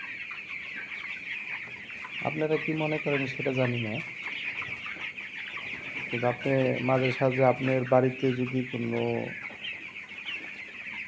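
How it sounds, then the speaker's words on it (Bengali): Farm chickens clucking in short repeated bursts, close and clear, with a steady insect-like hum behind and a person talking between the calls. "ফার্মে আছি আমার মুরগির সাথে।"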